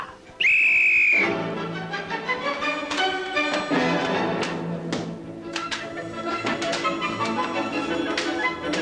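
A referee's whistle blown on a 1978 game show gives one loud, shrill blast near the start, followed by lively music and bustling studio noise.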